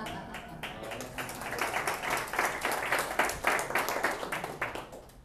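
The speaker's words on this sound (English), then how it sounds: "Clap, clap." An audience at a presentation claps together in a burst of applause, many hands in quick overlapping rhythm that builds and holds before thinning out, with a faint voice underneath.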